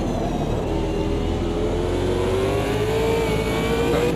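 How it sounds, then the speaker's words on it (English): A BMW racing car engine in the game Automobilista 2 revs hard and continuously, its whining pitch climbing gradually with gearbox synchro whine, a synthetic, game-like quality and no pauses. "BMW engine is actually sounding sweet"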